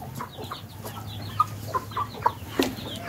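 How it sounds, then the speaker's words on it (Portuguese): Outdoors on a farm, a free-range hen clucks among her chicks, with a string of brief peeps and clucks spread over a few seconds above a constant low hum. "A galinha com os pintinhos."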